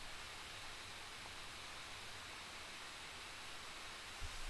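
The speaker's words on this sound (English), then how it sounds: "she's not used to the loud fan noise" A 2021 Razer Blade 14 laptop's cooling fan roars under benchmark load, a loud, steady, even whoosh that holds unchanged throughout.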